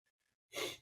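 A single sharp, fairly loud sneeze bursts out near the end after a couple of faint breaths, close to the listener.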